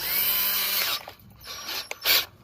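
A power drill turning a thread tap whines steadily for about a second, then stops and restarts in short bursts with faint scraping between.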